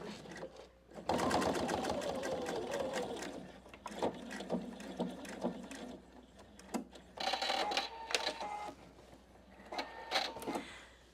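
A PFAFF Expression 720 domestic sewing machine stitches a fabric pouch in several bursts of rapid, even needle clatter, close and fairly loud, with short pauses between runs.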